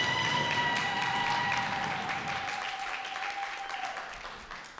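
Round of applause from an audience at a work readiness training day, a steady wash of clapping that slowly fades over a few seconds, with no voices over it.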